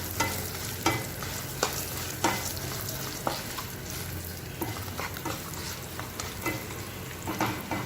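Sesame seeds and spices sauté in a pan with a low, steady sizzle, punctuated by regular scrapes and taps of a spoon stirring, close and moderately quiet with no talking.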